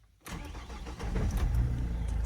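A 2012 Renault Trafic van's 2.0-litre 115 hp engine cranks and catches, then settles into a steady, rumbling idle close by.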